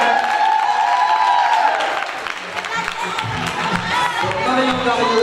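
An audience applauds at a town festival queen election as a candidate parades, with sustained crowd clapping and light cheering mixed with a presenter's amplified voice talking over it.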